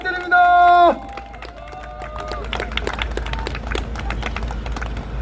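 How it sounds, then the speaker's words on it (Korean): An outdoor election campaign rally crowd in Daejeon breaks into applause after a loud sustained voice ends, and a dense patter of many hands clapping continues steadily to the end. "큰 박수"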